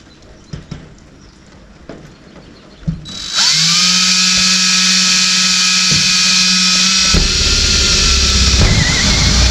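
A few light clicks and taps, then an electric drill starts up and whirs steadily at high speed for several seconds, its pitch shifting slightly near the end, while installing a camera system in a garage.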